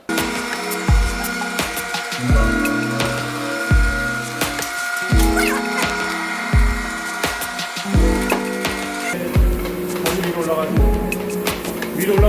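A floor scrubbing machine cleaning a commercial shop floor gives loud, rhythmic rasping strokes about every second and a half over a steady mechanical drone, close by.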